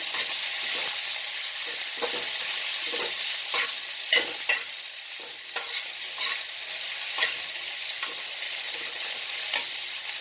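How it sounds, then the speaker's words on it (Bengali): Chopped onion sizzles steadily in hot oil in a pan while a spatula stirs it, a continuous frying hiss broken by regular scraping strokes, close and clear with no talk. "পেঁয়াজটাকে আমি ভালো করে"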